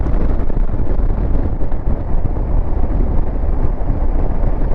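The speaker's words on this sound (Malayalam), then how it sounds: "നല്ല ഐസ് കാറ്റാണ് വീശുന്നത്" Icy wind blowing along a mountain road, a loud, constant roar battering the microphone without letup and with no voices.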